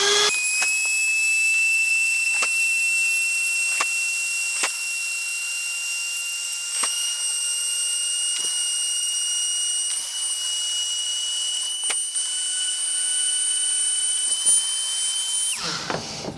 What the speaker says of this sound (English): I'm gonna use this little Dremel thing and go in and clean some stuff up in here